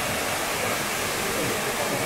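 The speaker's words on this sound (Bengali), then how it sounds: "দেখতেই পাচ্ছেন আমার পিছনে দুর্দান্ত একটি ওয়াটারফল।" Sitakund waterfall in Simlipal National Park, Odisha, roars as a dense, steady broadband rush of falling water, loud and unbroken throughout.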